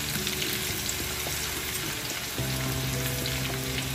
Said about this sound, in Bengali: আমার জিরা এবং রসুনটা সুন্দর ভাজা হয়ে গেছে।